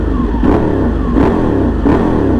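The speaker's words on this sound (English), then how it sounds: "Well, I guess it's not a cold start because I rolled up here to the gas station." Ducati Panigale motorcycle engine idling loudly up close at a gas station, already warm, with three rhythmic revs blipping over a steady rumbling idle, no talking.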